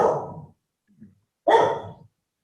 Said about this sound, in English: now he's barking because there's lightning